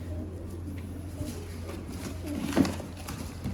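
A female teddy pigeon coos softly over a low background hum, with one slightly stronger coo near the end.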